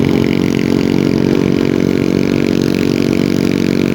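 A motorcycle engine drones steadily and loudly while riding on a road from Bacon, Sorsogon to Manito, Albay, holding an even, unbroken tone throughout with no speech.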